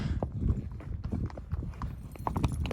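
Horse hooves clip-clop steadily on rock during a ride along a canyon rim, close and fairly loud, with a fast irregular rhythm of many hoof strikes and no talk.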